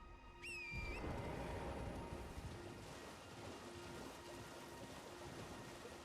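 Steady rain hisses across the Ainsel River Well area in the game Elden Ring, a dense continuous wash with low rumbling underneath and a brief rising tonal chirp at the very start.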